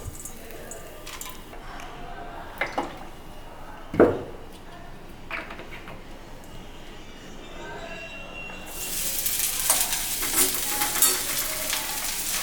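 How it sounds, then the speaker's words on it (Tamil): Pirandai (adamant creeper) is sautéed in a pan with garlic and asafoetida for thuvayal. A soft, broad sizzle rises loudly in the last few seconds, with stirring clinks and someone talking earlier. "பிரண்டை வந்து பொன்னிறமாக வர வரைக்கும் வதக்கலாங்க."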